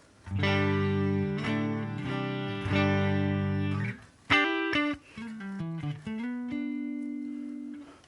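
A clean electric guitar through a Fender Twin amp model in Helix, stock settings without reverb, plays a few sustained chords, then a short run of single notes ending on a held tone, dry and close with no talking.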